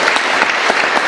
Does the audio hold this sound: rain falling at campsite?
no